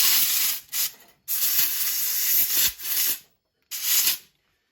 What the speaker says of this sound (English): Blown out as much of the crap as I can